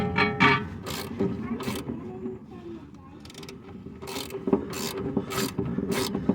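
Socket ratchet working the fork bolt on the suspension of a 1993 Honda Civic during a coilover install, a close series of sharp ratcheting bursts with pauses between and a low background hum.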